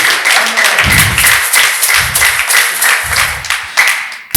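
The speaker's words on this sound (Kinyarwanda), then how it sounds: "Komera Imana amashyi mu izina rya Yesu." A church congregation claps along in steady, rhythmic bursts, loud and close, filling the room with continuous hand claps for several seconds.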